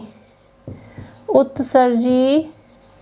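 Marker or chalk writing on a board during a Hindi biology lesson: faint short scratching strokes, soon joined and masked by a teacher speaking.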